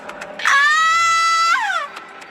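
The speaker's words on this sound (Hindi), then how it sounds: "दुल्हन की चीख कमरे के बाहर तक सुनाई दी" A bride's scream in a cartoon horror scene, one loud, sustained high-pitched shriek that holds steady for about a second before sliding downward and fading.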